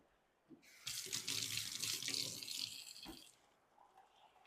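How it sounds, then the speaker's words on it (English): Water runs steadily from a kitchen tap as hands are washed beneath it, a smooth splashing rush lasting about three seconds before stopping, with no talking. "I'm going to wash my hands."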